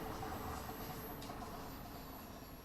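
A London Underground Bakerloo line train in the video game Train Sim World 2 runs with a steady, loud rumbling drone and a faint high whine, continuous throughout without talking.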